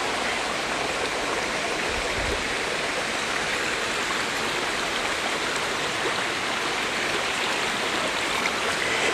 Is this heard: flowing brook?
yes